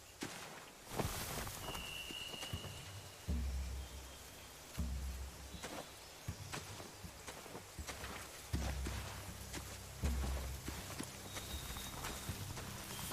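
Horse hooves clip-clop in a video game, a quiet, uneven walking rhythm in short groups of steps at a moderate distance.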